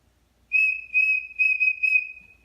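A small toy whistle blown in four short bursts, a steady shrill tone with brief breaks between, close and fairly loud.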